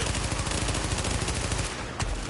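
Sustained automatic gunfire in The Division video game, a loud, dense rattle of shots running almost without pause, with a brief sharp crack near the end.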